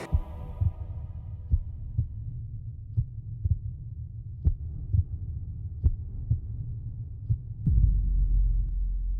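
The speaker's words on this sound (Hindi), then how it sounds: "तुम झूठ बोल सकते हो, लेकिन तुम्हारी ये दिल की धड़कन है ना," A heartbeat sound effect in a drama pulses steadily, a low dull thump repeating roughly every half second over a quiet hum, then a louder rumble swells near the end.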